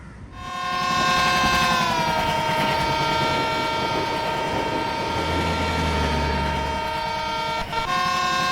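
A train on the railway line heading toward Veli sounds a loud, long horn blast that holds steady for several seconds over a rumbling passage, then briefly breaks off and resumes.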